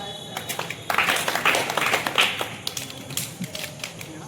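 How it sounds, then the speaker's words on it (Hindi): An audience at a Rover/Ranger scout leader training course in Azamgarh claps together in a brief burst of scattered hand claps that swells and then thins out, heard fairly close. "आप लोग अपने लिए ताली बजावें"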